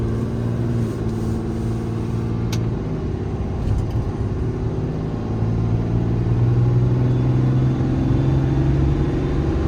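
A 2018 Ram 5500 with a Cummins diesel engine, 4WD and 121k miles, pulling hard on the road: a steady low engine rumble and road drone heard from inside the cab, rising slightly toward the end.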